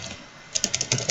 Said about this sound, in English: It's typing.